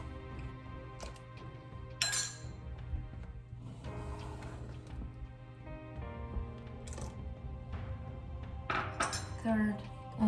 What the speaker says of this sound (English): just keep stirring it and adding in the vinegar 1 by 1 tablespoon